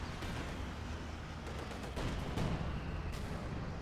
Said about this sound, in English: Ooh, and the mortar team gets a good hit.